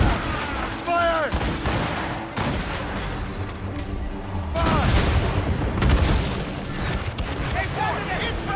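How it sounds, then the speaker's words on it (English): Cannon volleys fire in a naval battle in Assassin's Creed Rogue, with loud rolling booms and cracking blasts in quick succession, while crew voices shout throughout. "They are firing a volley!"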